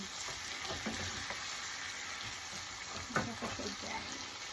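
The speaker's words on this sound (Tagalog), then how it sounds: "Gisa ko lang siya." Squid and pork sauté in a pan with a steady, moderate sizzle, broken by occasional stirring clatter and a sharper scrape partway through.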